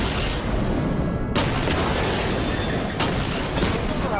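Missile explosions destroy targets in Batman Arkham Knight, a steady, loud rumble of booms and blasts with two sharper bursts standing out amid the dense barrage.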